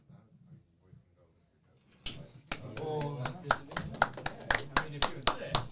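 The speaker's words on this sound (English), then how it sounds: "And you hear all of the applause" A quiet voice gives way to a sudden burst of clapping hands from an esports tournament audience, loud and close, settling into sharp, fairly regular claps.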